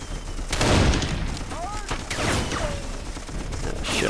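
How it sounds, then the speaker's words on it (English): Gunfire in the video game Darkest of Days, loud bursts of rapid shots and heavy booms close by, with whizzing rounds and a voice briefly heard among the sustained firing. "Oh, shit, I'm under fire."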